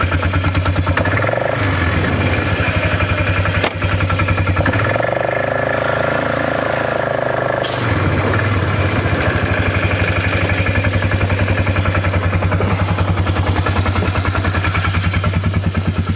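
A flood-damaged Polaris 325 ATV engine idles close by in a steady, loud, even putter that runs throughout, with a brief change in tone partway, and no talk.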